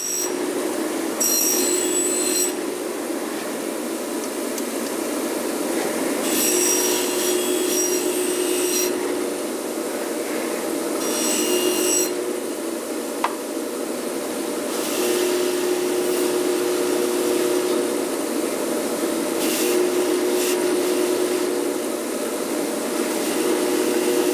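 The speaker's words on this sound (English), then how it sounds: "I usually just run them up to a wire wheel to clean them off." A steering rack housing held against a spinning wire wheel gives a steady, harsh grinding rasp for over twenty seconds, with brief brighter scraping bursts as the metal is pressed in.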